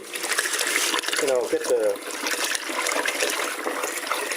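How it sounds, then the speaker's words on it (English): Hot tap water runs steadily at a kitchen sink as rice is rinsed, a continuous splashing rush that carries on under a brief spoken voice. "we're at my sink right now, and I'm just going to wash the rice really quickly"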